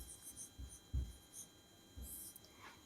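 Chalk or marker writing on a board during a music class, a few faint, scattered scratching strokes with soft thumps, quiet and close in a still room.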